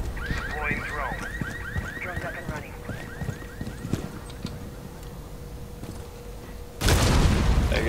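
Car alarms wail in Rainbow Six Siege, a repeating rising electronic warble over a steady tone and background game clatter, with a loud blast bursting in near the end.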